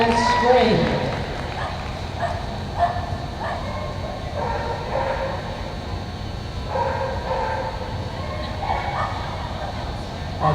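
A Jack Russell Terrier gives sharp, scattered barks and yips on an outdoor dog agility course, mixed with announcer talk and crowd noise.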